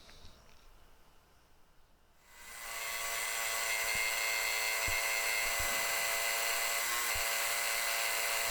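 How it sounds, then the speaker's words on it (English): A scroll saw cutting a rough handle shape for a strop starts after a quiet moment, then holds a loud, steady, whining buzz with a few sharp clicks as the blade works the wood. "And onto the scroll saw."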